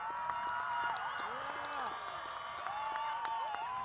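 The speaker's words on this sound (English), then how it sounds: "Audience, please join me in a round of applause to recognize our graduates" Steady broadband applause and cheering from a graduation audience honoring the Hamtramck Public Schools class of 2024, sustained throughout with voices and whoops mixed into the clapping.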